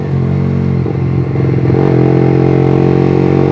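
A bored-up Yamaha R15 V3 motorcycle with a racing exhaust revs loudly and close, its raspy engine note rising and wavering before holding a steady high drone.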